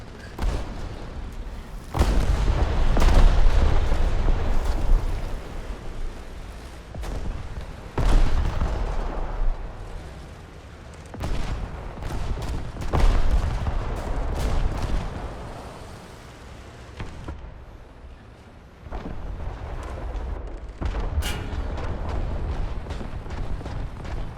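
M4A2 tank with a 75mm cannon firing in War Thunder, several heavy booming shots spread across the stretch amid rumbling battle noise, no voices.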